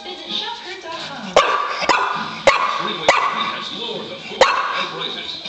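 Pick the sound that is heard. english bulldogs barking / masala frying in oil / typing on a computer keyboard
english bulldogs barking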